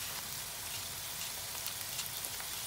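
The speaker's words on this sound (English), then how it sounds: "while our onions are sauteing" Onions sautéing in a pot for Nigerian jollof rice, giving a steady, close frying sizzle that runs evenly throughout with a faint crackle and no voices.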